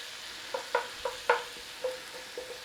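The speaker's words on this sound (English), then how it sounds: "A little stir around." Garlic sizzles in a hot pan while a spoon stirs it through, giving a few soft scraping clicks over a faint crackle. The scrapes are spaced and quiet, with no voices.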